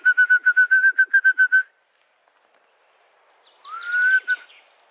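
A person whistles a quick run of about a dozen short, evenly spaced notes, falls silent, then gives one longer rising whistle.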